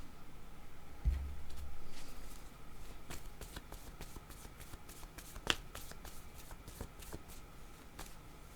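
Deck of cards being shuffled to draw a card, soft close riffling and flicking with scattered sharp snaps, faint throughout.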